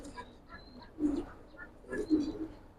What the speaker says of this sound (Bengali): দেখেন এটা একটা নর কবুতর।